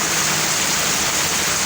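Heavy rain pours steadily in a continuous broadband wash of falling water, loud and unbroken with no talk.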